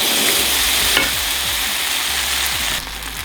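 Batter-soaked brioche slices for vegan French toast sizzle steadily in a hot skillet, a close, even frying hiss with a brief louder crackle as a piece goes in, easing slightly near the end.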